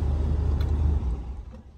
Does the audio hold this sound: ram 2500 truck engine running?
yes